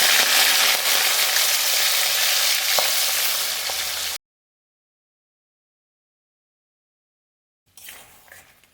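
Prawns sizzle loudly in hot oil in a wok, a dense close crackle lasting about four seconds, then silence, then a brief quieter return of frying.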